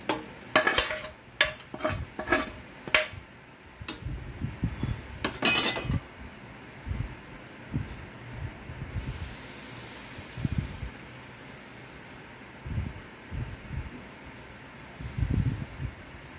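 A sautéed dish scraped and transferred into a deeper pot, with quick metallic clanks and scrapes of utensil against cookware up close, followed by softer intermittent stirring knocks and a faint sizzle.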